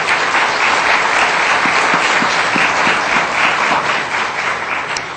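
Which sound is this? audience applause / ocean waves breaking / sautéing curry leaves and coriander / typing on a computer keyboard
audience applause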